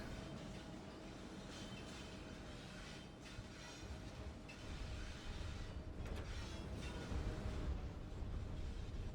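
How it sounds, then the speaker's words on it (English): A coal train rolls along the tracks in the railway-building video game Constracktion, a faint, steady rumble of moving wagons that swells slightly toward the end, heard alone. "Okay, so that means the coal train's headed out,"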